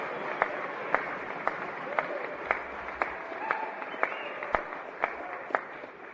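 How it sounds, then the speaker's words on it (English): Republican legislators applaud and cheer during a governor's state-of-the-state speech, a steady wash of clapping from a large room with sharp periodic peaks, heard from a distance without talk. "the first applause was the Republicans cheering about how Obamacare has been abysmal as far as implementation"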